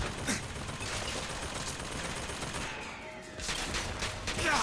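Gunfire aimed at the player in BioShock Infinite, a dense fusillade of rapid shots crackling steadily for several seconds, briefly thinning before another loud burst.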